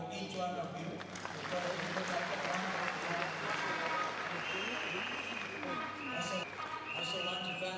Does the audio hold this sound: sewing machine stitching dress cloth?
no